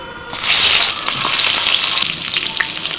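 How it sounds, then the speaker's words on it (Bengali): Brinjal hits hot oil with a loud burst of sizzling. The frying then settles into a dense, steady crackle heard up close. "ওই তেলের মধ্যে এবার বেগুন ভেজে নেব।"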